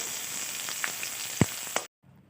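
Onion frying in hot oil with mustard seeds, curry leaves and green chillies for banana stem poriyal, a soft steady sizzle with a couple of light taps, then it cuts off abruptly.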